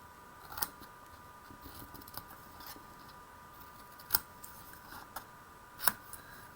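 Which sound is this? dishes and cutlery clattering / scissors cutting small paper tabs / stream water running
scissors cutting small paper tabs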